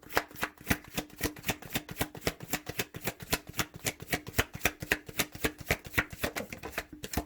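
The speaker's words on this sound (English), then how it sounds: "I don't know why I'm doing this to my animal deck of cards, but I am. It's not how I shuffle" Cards from an animal-themed deck are shuffled by hand, giving a fast, steady run of close, crisp riffling flicks with no talking.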